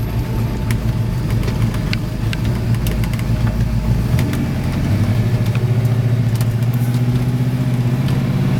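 A cold 1962 Chevrolet Nova II with a blueprinted 383 V8 drives along, its low, steady engine rumble continuous and loud, swelling slightly as it pulls harder partway through, with no talk.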